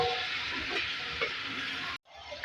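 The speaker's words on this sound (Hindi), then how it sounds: "इसको मैंने फ्राई किया 2 से 3 मिनट" Soaked chana dal fries and sizzles in a pot with a steady, close hiss and soft stirring scrapes, then a brief cut before the sizzle resumes.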